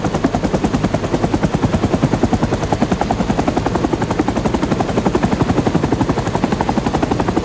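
Military helicopter in the Rising Storm 2 video game, a loud, close, steady rotor thump pulsing rapidly and evenly throughout, with no talking.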